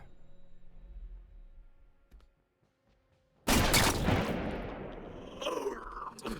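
Gunfire in the video game Every Day We Fight: after a quiet stretch, a sudden loud shot bursts out with a long, rumbling decay and a few fainter follow-up sounds.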